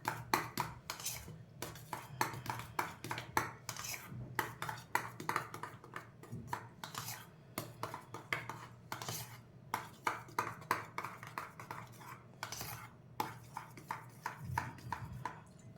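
A spoon clinks and scrapes against a bowl while mayonnaise is mixed into chopped sandwich vegetables, giving quick irregular taps and scrapes at a moderate level with brief pauses, no one talking.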